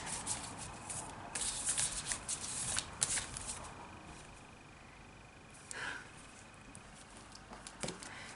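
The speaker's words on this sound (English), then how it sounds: "It's very hard to shuffle, but let's do it anyways." A deck of cards being shuffled, with rapid papery riffling bursts that come and go, close up and fairly quiet, no talking.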